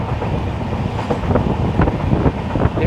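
A train thunders past close by while overtaking the Narkher–Kacheguda Intercity Express, a loud dense roar with rhythmic wheel clatter and wind buffeting throughout.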